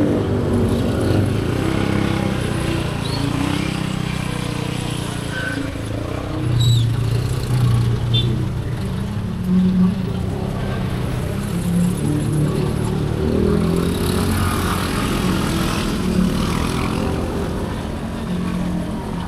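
Total traffic jam at Puncak, Bogor: a continuous dense wash of idling and creeping cars and motorcycles, with occasional engine revs and clatter, steady and fairly loud throughout.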